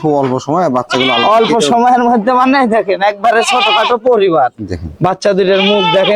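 Young goat kids of an improved farm breed bleat repeatedly and loudly up close, wavering cries overlapping one another almost without pause.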